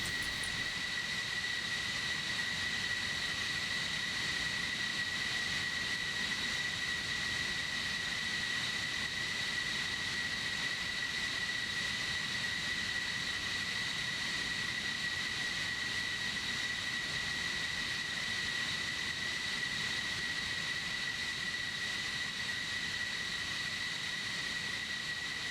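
Steady jet engine drone in a Cold War flight combat game pitting MiG-29 Fulcrums against F-14As, a continuous even roar with high whining tones that holds unchanged throughout, with no voices.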